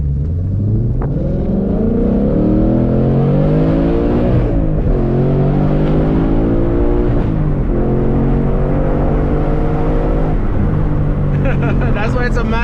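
A 2021 Ford Mustang Mach 1 V8 revs loudly and continuously from inside the car, rising and falling in pitch through gear changes, with a deep rumbling exhaust note.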